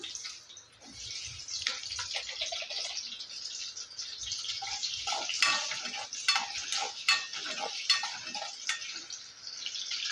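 Cut potatoes fry in oil in a pan, crackling and spitting in irregular bursts of sharp pops over a soft, steady sizzle at moderate loudness. No one talks.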